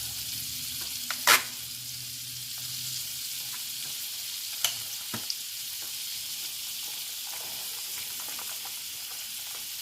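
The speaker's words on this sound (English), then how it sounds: "I'm going to add my onions. I got onions with green peppers." Onions and green peppers sauté in melted butter in a pan, giving a soft, steady sizzle with a few brief sharp clicks and clatters, fairly quiet throughout and with no talking.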